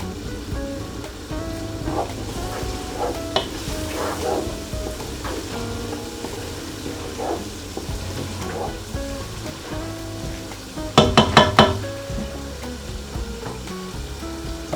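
A spiced chicken biryani base with coriander powder cooks in a pan with a low sizzle and soft scraping stirs, then a brief burst of rapid clattering knocks from the spoon against the pan.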